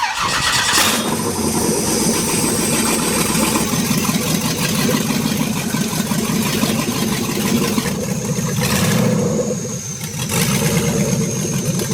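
An engine cranks and catches, then runs with a rough, rumbling idle and a few throttle blips, close by and loud throughout.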